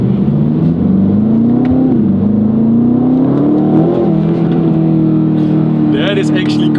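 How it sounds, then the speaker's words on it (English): A 2025 Aston Martin Vantage's V8 roars loudly and steadily from close by, its pitch rising and falling with the throttle throughout, while a person talks over it. "Oh, that roar of that V8 sounds so good."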